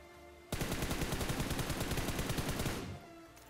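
Rapid automatic gunfire from an unscoped gun in BGMI, a sustained loud burst of closely spaced shots lasting over two seconds, then stopping abruptly.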